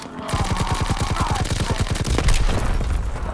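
Rapid automatic bursts from a submachine gun in a WWII video game, a steady string of close, loud shots running without pause through the whole stretch.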